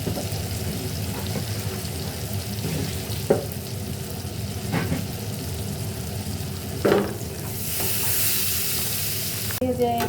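Chopped garlic and onion sizzle in a hot pan with oil, a steady frying crackle broken by a few sharp scrapes of a stirring spoon against the pan.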